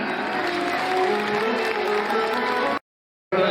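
Crowd applause at a school annual function during a lamp-lighting ceremony, fairly steady, with a faint voice or music underneath, cut off by a brief silence before resuming.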